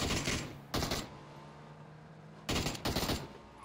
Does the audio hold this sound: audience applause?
no